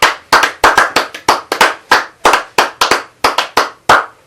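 A congregation claps together in acclaim during a French-language church service, about a dozen sharp, loud, irregular handclap bursts with no voices.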